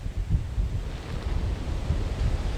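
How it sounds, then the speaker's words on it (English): Ferocious hurricane wind about a block inland from the coastline at Panama City Beach during Hurricane Michael, a loud, gusting roar buffeting the microphone, with surging low rumbles throughout. "some really ferocious wind hitting us right now, about a block inland from the coastline"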